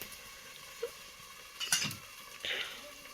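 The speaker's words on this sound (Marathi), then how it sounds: "आता झाकण ठेवायला लागेल काय." A lid is set down on a pan of village-style egg curry, giving a brief metallic clink and a short second rattle against faint kitchen background.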